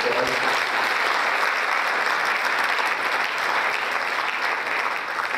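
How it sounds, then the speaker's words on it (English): An audience at an award ceremony applauds a school superintendent, a dense, steady wash of many hands clapping that holds at a loud, even level for several seconds without any voices. "Let's give him a big round of applause"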